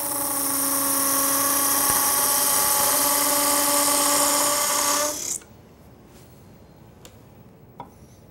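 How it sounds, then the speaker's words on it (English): A parting tool cuts tenons into spinning wood on a lathe for a cake pedestal, giving a steady loud whining, scraping tone for about five seconds before it stops abruptly, leaving faint clicks and quiet room noise. "Then use a parting tool to make the tenons on each end."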